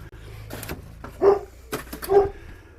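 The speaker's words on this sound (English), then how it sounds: "He barks, he jumps" A pet dog named Duff barks indoors in two short, loud bursts about a second apart, each a sharp, voiced woof over a low steady background hum.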